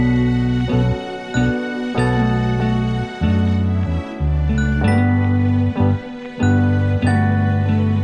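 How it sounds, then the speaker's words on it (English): A bright glockenspiel-style bell melody rings out in a sparse 90s boom bap beat, steady ringing notes over deep bass and drum hits in a regular loop. "That's supposed to be emulating a glockenspiel, and I love that kind of bell sound"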